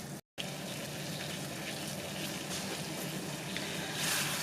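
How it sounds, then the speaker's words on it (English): A pot of water at a rolling boil on a medium-heat stove, ready for grits, giving a steady close hissing and bubbling rush that swells slightly at the end, with a brief dropout near the start. "My water has come to a boil, and I'm going to slowly add the grits."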